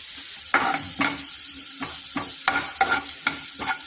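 Leftover idli upma with asafoetida and Kashmiri chilli powder is stirred in a pan, a spoon scraping in repeated short strokes about every half second over a light sizzle, close and fairly quiet.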